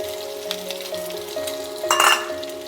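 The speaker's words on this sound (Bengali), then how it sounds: "পেঁয়াজগুলোকে আমি একটু লাল করে এটা ভাজতে হবে, একটু সময় নিয়ে লাল করে ভাজতে হবে।" Five large chopped onions fry in a pan, giving a steady close sizzle under a faint hum, with a brief louder burst of stirring and clinking near the end. No speech.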